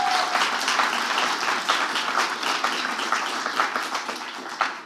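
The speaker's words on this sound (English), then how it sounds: "let's give him an anticipatory round of applause" A roomful of people at an evening speaker forum claps in a dense, steady wash of applause that holds evenly throughout.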